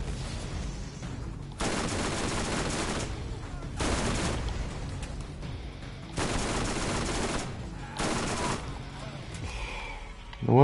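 An SMG in Borderlands fires in four long sustained bursts of rapid gunfire, loud and close, separated by short pauses, with no talk.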